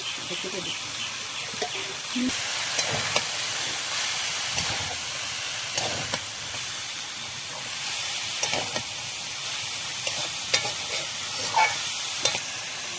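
Cabbage added to potatoes already frying in a pan, a steady soft sizzle with scattered stirring scrapes and clinks of a spatula, close and continuous, with a brief voice now and then.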